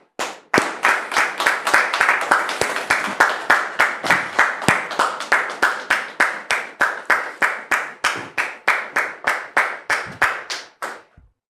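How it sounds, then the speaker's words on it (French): An audience claps in a steady, rhythmic beat, loud and sustained, continuing evenly for several seconds before stopping. "sous vos applaudissements, s'il vous plaît"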